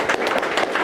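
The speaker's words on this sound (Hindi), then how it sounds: "एक बार ताली।" Seminar audience bursting into brief applause, a dense patter of many hands clapping at once.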